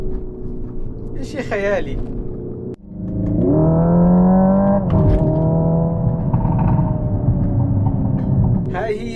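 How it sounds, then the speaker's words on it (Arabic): Synthetic performance sound inside the cabin of a Hyundai Ioniq 5 N electric car, a rising engine-like drone with harmonic tones that swells and holds loud, with someone talking over it. "عمرك تخيلت انك تسمع صوت سيارة كهربائية بهذا الشكل داخل المقصورة؟"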